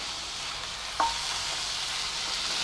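Chopped tomatoes sautéing with reddened onion in a pan make a soft, steady sizzle, with one sharp clink of a utensil partway through and no voices.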